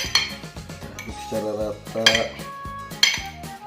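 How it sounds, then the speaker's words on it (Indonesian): A utensil stirs food in a bowl, giving close, clattering clinks of metal against the dish in a quick, uneven rhythm, with no talking. "Aduk secara rata."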